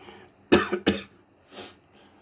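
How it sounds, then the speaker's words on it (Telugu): Close, isolated coughs from someone with a cold: two sharp bursts back to back, then a softer third cough after a short pause, in a quiet indoor room. "sorry for the interruption, cough cold అనేటువంటిది చేసింది"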